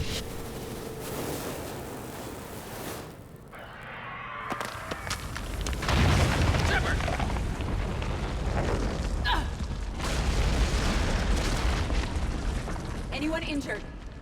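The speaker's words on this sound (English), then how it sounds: "What was that noise, Shepard? Sounded bad. Cave in." A deep, heavy rumble of a cave-in in Mass Effect 3 builds and rolls on with debris-like crackling, loud and sustained beneath voices talking.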